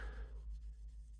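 Wet sanding on a model car's clear coat with fine-grit paper, a brief soft rubbing scratch that starts with a faint squeak and fades into a quiet, steady hiss.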